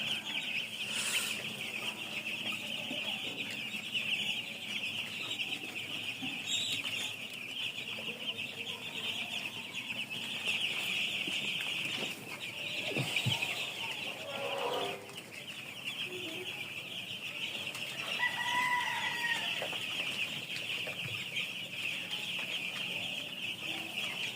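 Broiler chickens in a poultry farm shed cluck and chirp steadily throughout, a dense continuous flock chorus at moderate distance with a few louder calls near the end and no talk.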